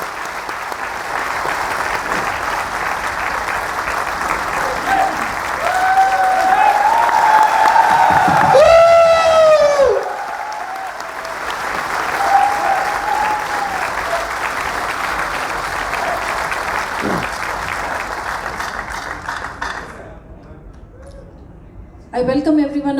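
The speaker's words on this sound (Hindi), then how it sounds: "तालियों में कमी नहीं होनी चाहिए।" Steady applause from a large audience at a medical association event in Allahabad, a dense continuous clatter of clapping that runs nearly the whole time, briefly thinning midway, with a voice speaking over it near the start.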